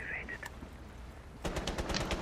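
Rapid automatic gunfire in the Rainbow Six Siege video game, a dense burst of shots erupting halfway through and continuing, loud and close, following a quieter stretch with faint voice sounds.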